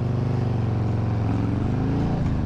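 2018 Harley-Davidson Low Rider motorcycle with Rinehart slip-on mufflers, a loud, steady, throbbing exhaust rumble at close range that rises slightly in pitch near the end.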